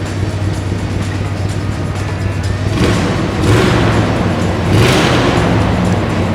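The V8 engine of a 1957 Chevrolet Bel Air with dual carburetors runs after starting. There is a steady low idle rumble, with two swelling blips of throttle partway through, heard close and alone.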